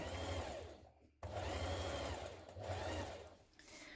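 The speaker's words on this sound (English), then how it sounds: "We're going to stitch this with a 1 centimetre seam." Sewing machine stitching a coat lining to coating fabric with a 1 cm seam, a steady close whirring run that stops briefly, restarts, and dips again near the end.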